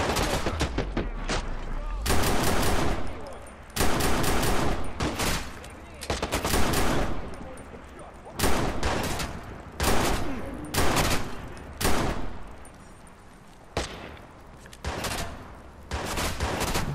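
Loud shotgun blasts from the video game Watch Dogs boom in heavy, irregular bursts, each followed by a short lull, over a continuous noisy background of gameplay.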